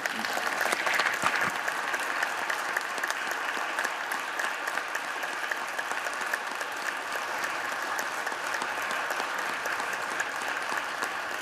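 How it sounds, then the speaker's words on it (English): Spectators and staff in the US Senate gallery give a standing ovation, with dense, steady applause from a large crowd sustained for over ten seconds. "They had to get permission for the standing ovation because of the rules"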